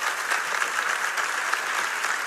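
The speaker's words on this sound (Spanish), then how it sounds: "Si le va a aplaudir, apláudele, pero fuerte a Él." Church congregation applauding during a pastor's sermon, a steady dense wash of clapping that stays loud and even throughout with no talk over it.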